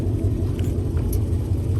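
Dodge 392 V8 engine fitted with a full MBRP exhaust, running at a steady, deep low rumble with no change in pace, loud and close throughout.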